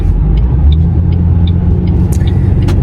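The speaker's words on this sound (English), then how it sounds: "Now I got cars trying to go around." Cars move along a road around a slow-moving vehicle, a loud, close engine rumble throughout with faint higher whines and a couple of brief hisses.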